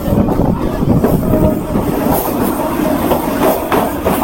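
A commuter train pulls into Sheoraphuli station in a loud, continuous roar of rolling wheels and rattling carriages, with rhythmic clacks and faint squeals from the rails, heard from on board.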